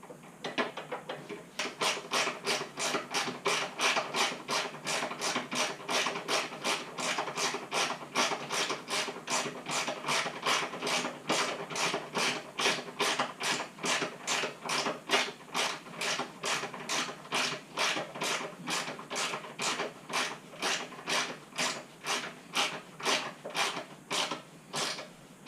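A ratchet wrench clicks in a fast, even rhythm while bolts are torqued down on a 2018 Indian Scout Bobber motorcycle, the close, bright clicks repeating steadily for a long stretch.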